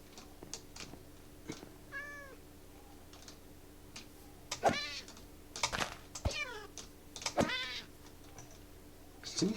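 A cat in the video game From The Fog meows repeatedly, several clear, drawn-out cries spread across the stretch, mixed with scattered clicks and ticks.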